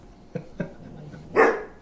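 A dog gives two short, sharp barks, then a louder, longer bark-whine a moment later, heard fairly close in a quiet indoor setting with no talking.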